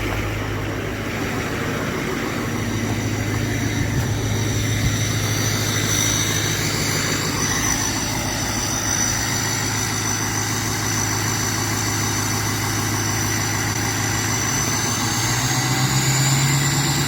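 A diesel truck engine idles nearby, a steady low rumbling drone with a constant hum and faint rattling vibration that holds unbroken throughout, with a slight rise in pitch partway through.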